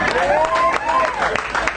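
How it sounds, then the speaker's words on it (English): Rally audience at a Prime Minister's constituency event in St. Andrew claps and cheers in a steady crowd roar, with a voice talking over the applause. "I have listened to all the applause"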